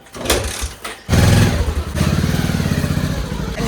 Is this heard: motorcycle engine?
yes